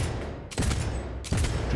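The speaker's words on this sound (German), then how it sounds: "Schieße dir jetzt so lange in den Schütter, bis du stirbst." Two bursts of rapid automatic gunfire from the video game Cyberpunk 2077, separated by a short pause, loud and close with no voices over them.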